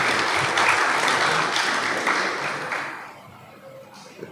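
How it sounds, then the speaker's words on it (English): Audience applause at a school pavilion project launch, celebrating an under-14 national team; dense, steady clapping from a crowd that fades out over the last second or so. "So a round of applause."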